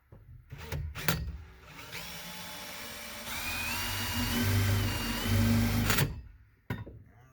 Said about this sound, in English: just gonna cut through with a big hole saw